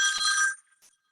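A mobile phone rings indoors during a spiritual talk: a loud, bright electronic ringtone burst lasting about half a second, then cut off, leaving a faint trailing chirp and silence.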